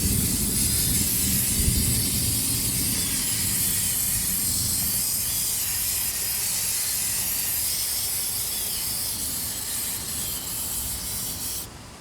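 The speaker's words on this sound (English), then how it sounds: "Let's take some of this rust converter and spray on it." A long, continuous hiss of an aerosol can spraying rust converter onto a Massey Harris #3 baler plunger part, steady and close, tapering slightly before cutting off at the end.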